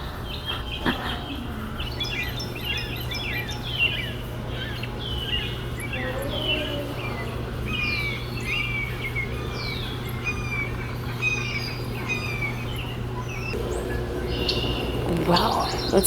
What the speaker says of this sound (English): And then the woodpeckers on the tree.